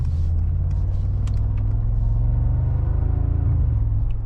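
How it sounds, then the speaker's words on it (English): A steady, deep 2025 Mercedes-AMG G63 SUV engine rumble runs throughout, loud and continuous with a low droning throb and a few faint ticks above it. "The noise is still this rumbly noise."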